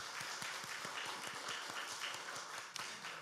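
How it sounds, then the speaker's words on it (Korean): Church congregation applauding during a Sunday morning worship service: steady, dense clapping from many hands that fills the whole stretch without a break. "우리 격려의 박수 한번 하도록 하겠습니다"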